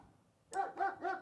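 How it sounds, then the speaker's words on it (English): A dog barks three times in quick succession, loud and close, after a brief quiet moment. "And player 2 has the dog barking."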